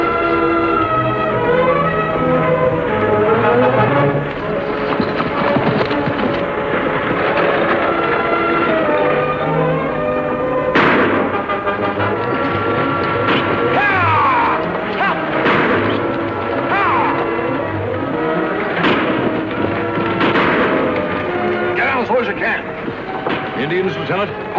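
Gunshots from a 1954 Lone Ranger western radio drama: several sharp cracks, seemingly distant, spread through the middle and later part and set against a steady bed of music.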